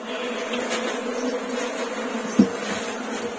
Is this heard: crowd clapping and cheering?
no